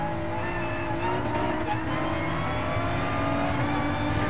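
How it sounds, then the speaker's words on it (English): Race car engine in a NASCAR racing video game, heard from the visor cam during a restart at the Cracker Barrel 400 league race, revving steadily and loudly through gear shifts with no talk over it. "Listen to him shift on the restart."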